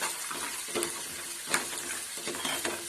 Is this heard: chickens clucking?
no